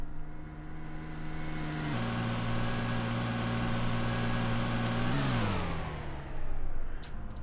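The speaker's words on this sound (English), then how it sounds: "Don't know why I can hear a car." A car on a nearby road hums steadily in the background, a continuous tonal engine drone that dips in pitch partway through and swells slightly near the end, with no speech.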